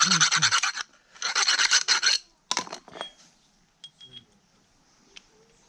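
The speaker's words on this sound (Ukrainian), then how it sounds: "Так, ну що, підточив я." A hand file rasps against a metal pin from a walk-behind tractor hitch, with two bursts of rapid back-and-forth strokes, then a few shorter scrapes and light metallic clinks, close and loud.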